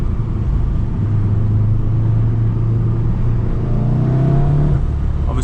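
A Volkswagen Golf R driven in race mode on a winding road in Japan, its engine droning steadily and loud from inside the cabin, with the pitch rising slightly under a gentle build of revs.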